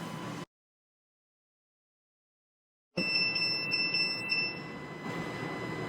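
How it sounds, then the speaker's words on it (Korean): After a stretch of silence, a UV spectrophotometer gives a series of high electronic beeps during system calibration over a steady background hum, with several short tones repeating before fading. "이때도 삐 소리가 날 때까지 기다리면 됩니다."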